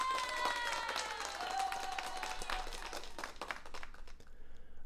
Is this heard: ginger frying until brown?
no